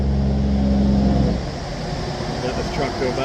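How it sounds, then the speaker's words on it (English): A truck drives past on a nearby road, its low engine rumble loud at first and then fading after a second or so, leaving quieter outdoor ambience. "let this truck go by"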